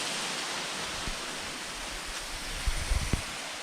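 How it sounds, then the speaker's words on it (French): A waterfall in a Vosges forest gives off a steady, soft rushing hiss that fills the background, broken by a few low thumps near the end. "la cascade fait un peu de bruit"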